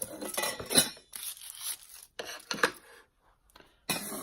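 A toy saucepan and wooden spoon from a Pottery Barn Kids mini play cooking set are handled, making irregular light clinks and clatters in short bursts separated by quiet gaps.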